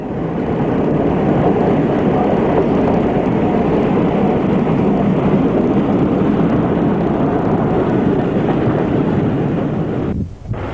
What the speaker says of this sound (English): 45047 takes a coal train east at Goring